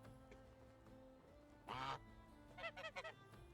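Geese in the Medieval Dynasty video game honk in a short loud burst, then a quick run of several nasal quacking calls, heard over a quiet ambient game background.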